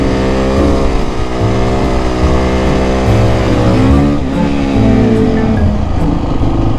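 A supermoto motorcycle accelerates hard in first gear, the engine note climbing steadily in pitch as it revs up close by, loud and continuous with no talk over it.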